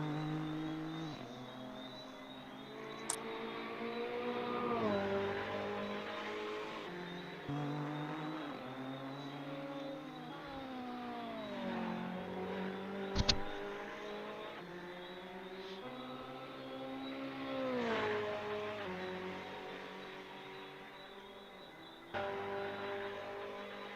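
Race car engines in a Le Mans sim-racing endurance game, revving through rising and falling gear shifts, steady and fairly close, with a sharp click or two along the way.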